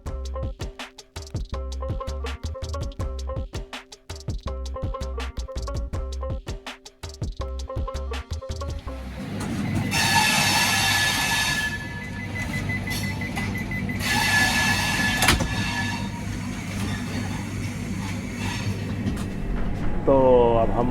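Tejas Rajdhani Express train running from New Delhi to Patna, heard from inside the coach: steady rolling rumble with rhythmic clacking at first, then a broader roaring rush of motion, continuous and fairly loud throughout.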